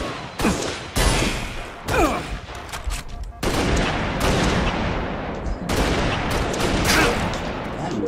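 Rapid bursts of gunfire from a Halo Reach multiplayer match, loud clustered volleys and single shots repeating across the clip with a faint voice underneath.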